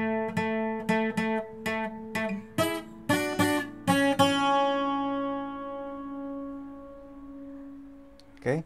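Requinto guitar playing a riff, a run of plucked notes and strummed chords ending in a long ringing decay, played alone and close.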